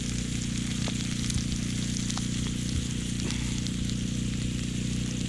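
Thick roux sizzling in a hot pan over an open flame while camping in 15-degree cold, a constant dense hiss under a steady low hum, with faint occasional clicks of stirring.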